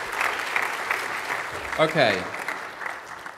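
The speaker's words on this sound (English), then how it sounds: "Round of applause for Wayne, please." Applause from the audience at an excellence in learning technology showcase honoring a presenter named Wayne, a steady patter of clapping running the whole length with a brief spoken word over it.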